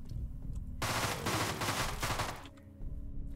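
A short burst of SMG fire in the video game Deadbolt, a dense rattle of rapid shots lasting under two seconds, preceded and followed by quiet low ambient hum.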